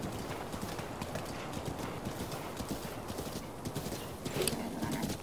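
Horses in Zelda: Breath of the Wild trot with steady, dense hoof clip-clops on open ground, continuous and fairly loud, with a brief livelier burst near the end.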